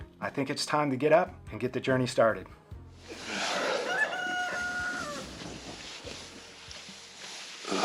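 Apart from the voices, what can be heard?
roosters crowing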